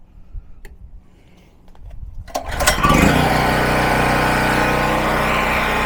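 An old Harbor Freight generator engine is pull-started without choke, catching after a few quiet taps and rising into a loud, steady small-engine drone that runs on alone and close by.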